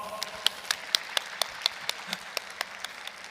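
Sparse, scattered claps from a small conference audience at a digital asset industry event, about a dozen distinct sharp hand claps spaced unevenly, fairly quiet and with no voices over them.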